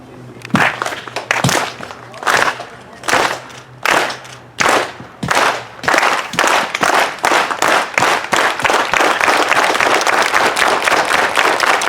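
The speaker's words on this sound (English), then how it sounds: "it starts off with a slow clap" A crowd performs the Filipino unity clap at an anti-hate rally, starting with slow, widely spaced single claps in unison that gradually quicken into a rapid, continuous burst of applause.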